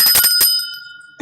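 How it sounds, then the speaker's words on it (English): A hand bell rung several quick times, bright metallic dings with a long ringing tail fading out, then a brief noise at the end. "I'm gonna ring the bell."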